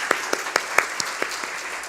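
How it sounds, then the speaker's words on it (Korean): Church congregation giving a brief round of celebratory applause, heard as sparse, separate claps spaced out over two seconds, fairly quiet and close. "우리 김희규 집사님 우리 축하의 박수 하겠습니다"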